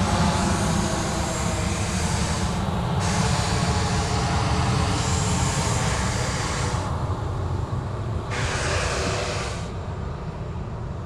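A Regional Express Boeing 737 taxis at Sydney Airport at night, its engines giving a loud, steady, broadband roar that holds throughout with only slight swells.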